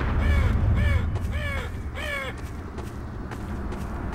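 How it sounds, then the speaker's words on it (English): Crows caw in a deserted area in Half-Life 2 Episode 2, four harsh calls in a steady rhythm, loud and fairly close, with softer calls trailing off afterward. "Aw, the crows."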